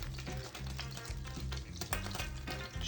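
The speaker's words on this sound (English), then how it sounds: "I'm gonna sear it on all sides" A beef roast sears in a hot pan before going into a crock pot, giving a steady, loud sizzle with occasional stirring and scraping noises close by, and no talking.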